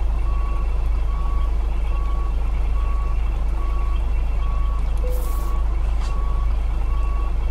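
Reversing alarm of a Mercedes-Benz Actros truck in Euro Truck Simulator 2: evenly spaced electronic beeps repeating about twice a second over a loud, steady low engine rumble, with a short hiss of air partway through.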